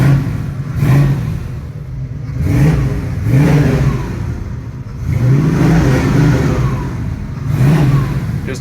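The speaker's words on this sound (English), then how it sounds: "Let me give it some gas." A 1971 Ford Gran Torino GT engine revs up and falls back several times in repeated surges, loud and close, with a low rumbling tone between bursts.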